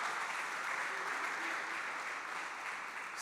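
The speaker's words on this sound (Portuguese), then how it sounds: "Pode aplaudir ao Senhor por isso?" Congregation applause at a Brazilian church Bible-school service, a dense, even patter of clapping sustained throughout, somewhat distant and unbroken.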